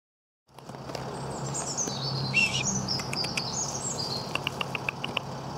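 High, thin chirps of four baby robins in a nest flutter through a steady outdoor hum, with a quick run of repeated peeps near the end.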